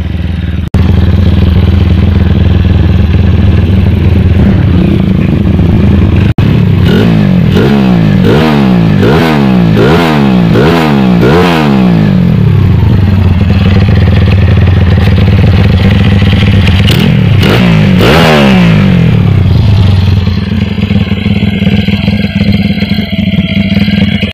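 A stroke-up, bore-up motorcycle engine revs hard during an RPM test, loud and close, with a rapid series of sharp throttle blips over a rough idle, then a couple more revs before settling back.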